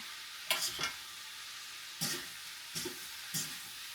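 Shrimp and vegetables with sauce being stirred in a small wok, with quiet sizzling throughout and four spaced scraping bursts of the spatula against the pan.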